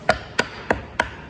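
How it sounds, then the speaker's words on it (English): A screwdriver taps a divider template four times at an even, unhurried rhythm, each a sharp close click with a short ring, on a quiet background. "give it a small tap with the screwdriver"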